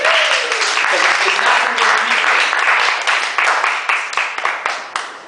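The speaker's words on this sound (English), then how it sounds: "Give him a round of applause" An audience at Cafe Muse in Hollywood applauds a performer, with steady, dense clapping that thins out toward the end into a few sparse, distinct claps. A voice can be heard faintly early on.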